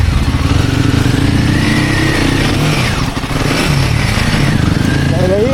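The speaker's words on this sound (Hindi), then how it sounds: "देखते हैं बाइक यहाँ से निकलती है कि नहीं" A Royal Enfield Himalayan motorcycle engine runs steadily and loud as the bike picks its way over stones laid across a blocked mountain road, with a brief dip in the middle and people talking over it.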